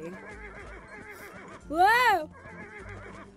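A unicorn horse in a mobile video game gives one loud whinny that rises and then falls. It plays over looping game music, and a person exclaims over it.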